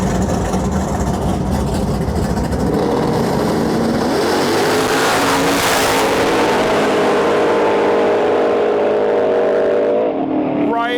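Cars launching in a drag race at a small-tire track, a loud, sustained engine roar with rising revs and a sweeping pass that fades near the end, with crowd and announcer noise underneath.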